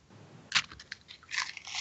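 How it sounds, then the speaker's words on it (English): Crunchy Nerds candy is bitten and chewed right against the microphone, giving a few sharp close crunches followed by a denser burst of crackling. "you can hear me crunching my nerds in the microphone"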